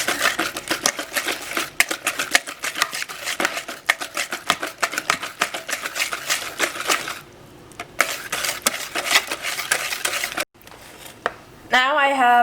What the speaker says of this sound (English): Now I'm going to whisk this together as well.